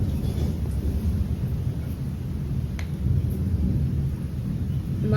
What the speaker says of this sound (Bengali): শুধু এত পরিমাণে বিদ্যুৎ চমকাচ্ছে, এটা তাও কম আওয়াজ, মাঝে মাঝে ডাকছে তো একদম ফেটে যাওয়ার মতো